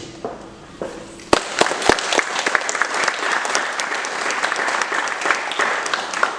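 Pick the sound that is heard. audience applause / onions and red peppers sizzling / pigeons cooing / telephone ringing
audience applause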